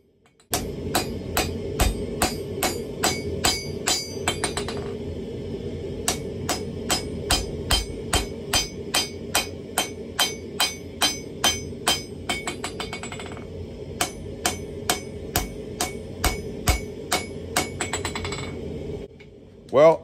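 Steady, rhythmic hammer blows ringing on an anvil while forging a wrought iron and 1080 steel chopper blade, bright metallic strikes repeating in fast runs with short pauses, close and loud.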